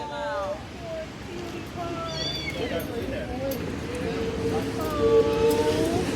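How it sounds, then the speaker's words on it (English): A black cat meows repeatedly on a New York City street, several rising-and-falling cries spread across the moment, heard over outdoor background noise and mixed with nearby voices talking. "And it's a black cat"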